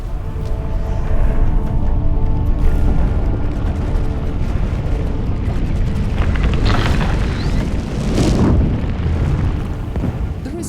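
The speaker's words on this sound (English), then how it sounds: "Eventually, the surface failed completely, releasing the pressure on the entire reservoir of magma below and exploding it" A supervolcano eruption explosion roars as a sustained, loud, deep rumbling blast with rolling booms and bursts swelling and fading across the stretch, with no voices.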